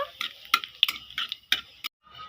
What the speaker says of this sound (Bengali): জিরেটা ভাজা করে নেব